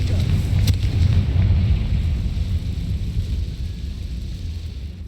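A Confringo spell explodes in Hogwarts Legacy: a loud booming blast with a sharp crack near the start, then a heavy rolling rumble that slowly fades but stays dense throughout.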